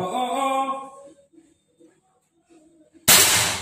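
A single loud, sharp gunshot cracks out suddenly after a stretch of near quiet, close and harsh. A voice sounds briefly at the start.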